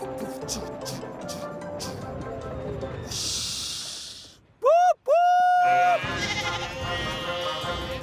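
Two loud, wavering bleats from young sheep ring out close by over a busy cartoon farmyard bustle of steam engine music and rumble, with a breathy hiss beforehand.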